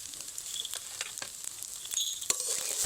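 Chicken fried rice with egg and vegetables stirred in a pan, a faint steady sizzle broken by a series of sharp spatula scrapes and clinks at an irregular pace, with no voices.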